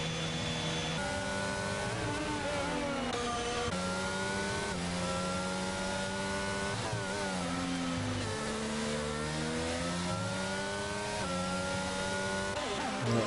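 F1 22 race cars at the Singapore circuit scream past with high, revving engines, gears shifting up and down continuously, several cars layered together and loud throughout.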